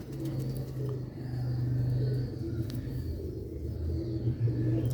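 A pigeon of a Sialkoti breed coos in low, repeated throaty phrases close by, over a faint background rumble and occasional chirps.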